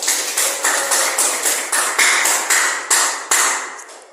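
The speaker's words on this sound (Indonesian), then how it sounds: "Tepuk tangan." A classroom group of teachers or students claps in a series of sharp, evenly spaced bursts, roughly ten rhythmic rounds of close, loud hand claps in a patterned cheer.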